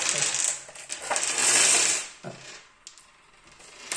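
Scatter dice rattle and tumble across a tabletop during a Warhammer Fantasy Battles tabletop game, a close clattering roll that fades, followed by a few light clicks.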